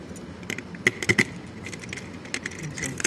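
A key for a motorcycle top box on a Sniper 155 jangles in a few quick metallic clinks and taps, close and moderately loud over low background noise.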